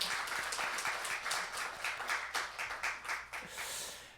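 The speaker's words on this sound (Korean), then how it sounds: "우리 박수로 한번 축하해 주시고요" Congregation applauding during a Sunday morning church service, a steady patter of many hands at moderate distance, faint and continuous for a few seconds.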